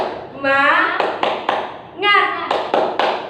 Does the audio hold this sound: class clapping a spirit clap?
yes